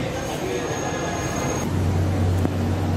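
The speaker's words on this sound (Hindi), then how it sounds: "वो ट्रेन जा रही है जो अभी यहाँ से गई है" Orange Line metro train moving along an elevated curved bridge track, a steady broad rumble with a rising low hum near the end, heard from close by without talk.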